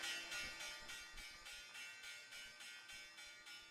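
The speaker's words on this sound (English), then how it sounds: "Here's the bell." The stock market opening bell rings in a rapid, even series of bright metallic strikes, steady and moderately loud, heard alone for several seconds.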